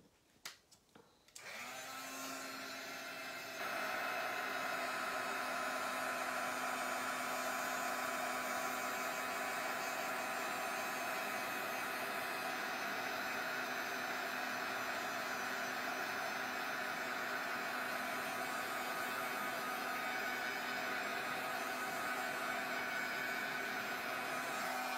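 Heat tool switching on after a few handling clicks, then a steady loud blowing whir held for over twenty seconds while drying crackle paint and metallic wax, close and constant with no talk.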